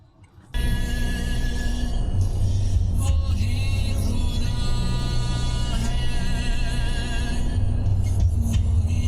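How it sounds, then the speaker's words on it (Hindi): Oncoming road traffic rolls past on a highway after a sudden start, a loud, steady engine and tyre rumble with a sustained tonal whine, heard from close by for several seconds. "अब देखिए ये ट्रैफिक अब आ रही है सामने से"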